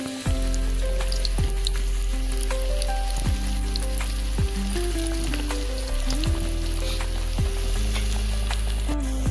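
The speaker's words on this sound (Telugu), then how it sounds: "నూనె వేడెక్కాక మెల్లగా ఒకటికొకటి వేసుకుంటూ ఫ్రై చేసుకుందాం" Palak paneer cutlets deep frying in hot oil give a steady, loud, crackling sizzle that carries on throughout, with no voices.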